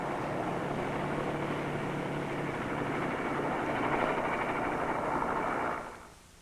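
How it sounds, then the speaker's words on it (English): A small airplane landing at a remote strip in Baja California, a steady droning engine roar held at even loudness for several seconds before cutting off abruptly. "an airplane coming in for a landing"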